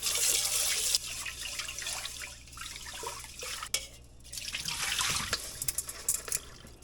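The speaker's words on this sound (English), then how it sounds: "And we're gonna rinse that." Tap water runs and splashes as Alaskan salmon is rinsed in a kitchen sink, a soft, close stream with uneven gushes and brief gaps.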